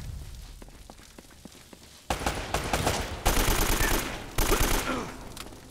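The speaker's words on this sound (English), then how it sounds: "I got so many bullets that I'm firing at you." Automatic weapon fire in Uncharted: Drake's Fortune: rapid bursts of gunshots that start after a quiet stretch of faint steps, then come in loud, close repeated volleys.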